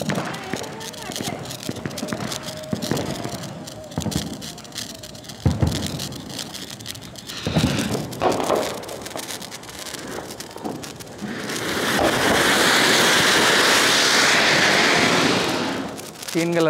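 A large anar flower-pot firework burning in three colours at a Diwali celebration in Kota gives off a loud, steady hissing spray during the final few seconds. Before it ignites, people talk over scattered crackles and pops of other fireworks.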